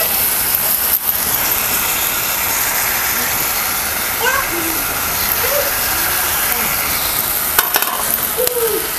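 Vegetables such as onion and cabbage are stirred in a pan with soy sauce, red chili sauce and ketchup, giving a steady sizzling hiss with faint scraping throughout.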